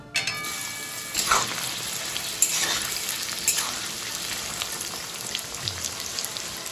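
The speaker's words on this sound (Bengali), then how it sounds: "পেঁয়াজটাকে একদম ধরে ধরে ভাজতে হবে।" Chopped onions fry in hot white oil in a wok with a steady close sizzle, broken by louder scraping stirs of a spatula, continuous throughout and not spoken over.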